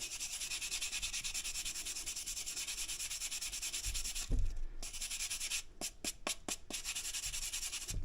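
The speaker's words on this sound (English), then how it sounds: "you'll just want to get a wire brush and just scrub off your stones" A wire brush scrubs clean the stones of a cylinder hone used on an IAME KA100 kart engine cylinder, giving a steady close rasping rub with a few short sharp scratchy strokes near the end and no talk.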